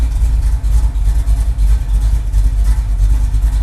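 A carbureted engine idles loud and close while it is being broken in, holding a deep, steady, slightly lumpy rumble with no clear revving throughout.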